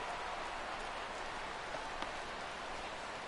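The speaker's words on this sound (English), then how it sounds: "EK, how'd you like playing in the rain?" Steady rain falls in the baseball video game MLB The Show 16, a constant even hiss of downpour with no voices over it.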